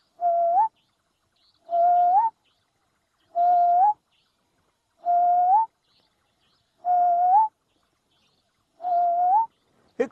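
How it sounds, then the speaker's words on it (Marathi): A brown hawk owl perched on a horizontal tree branch gives six evenly spaced, clear hooting calls, each a short rising note, repeated about every 1.7 seconds against a quiet background. "ब्राऊन हॉक आऊल नावाचं घुबड आहे, ते देखील बाहेर पडतं आणि एखाद्या झाडाच्या आडव्या फांदीवरती बसतं आणि तिथून आवाज"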